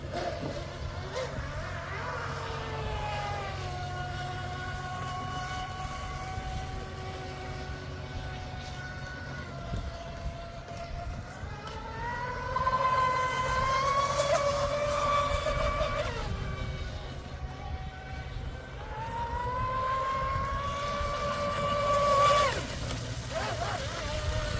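Brushless RC mono hull boat with a Panther 215 stainless steel prop, its motor whine rising and falling in repeated high-pitched passes, swelling louder as it nears then fading, with wind and water noise underneath.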